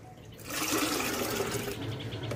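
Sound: water being poured into a bottle

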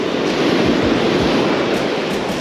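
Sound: ocean waves while fishing

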